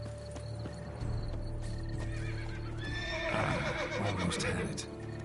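A horse whinnies and neighs amid clip-clopping hooves in The Witcher 3 video game, with game music and ambient sounds around it.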